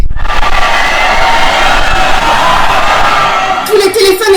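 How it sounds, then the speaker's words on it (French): A nighttime crowd roars with shouting, whoops and cheering in a loud, continuous swell, and a few shriller cries rise near the end. "La foule a commencé à crier."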